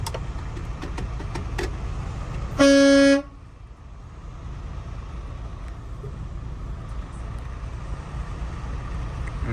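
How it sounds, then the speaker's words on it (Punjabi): A single loud, short truck horn blast rings out over steady traffic rumble at a border crossing, then the road noise carries on alone. "ਨਾ ਹਾਰਨ ਵੀ ਮਾਰਤਾ"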